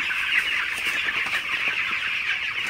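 Broiler chickens clucking on a poultry farm, a continuous busy chorus of overlapping clucks and chatter at moderate distance.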